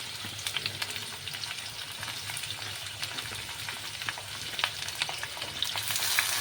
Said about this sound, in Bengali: উচ্ছেগুলোকে একটুখানি বেশি কড়া করে ভাজতে হবে।